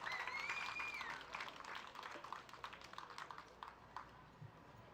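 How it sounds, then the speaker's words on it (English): Crowd at a junior livestock show claps in a brief round of applause that starts fairly strong and fades, heard faintly at a distance in a large arena. "Give him a good round of applause."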